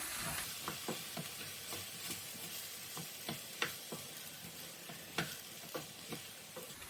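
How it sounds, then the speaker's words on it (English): Cooked rice stirred in a hot pan over a medium flame while it fries, with a constant soft sizzle and irregular scraping knocks from the utensil every half second or so, close and fairly quiet. "now I'll lower the flame to medium and mix all this together"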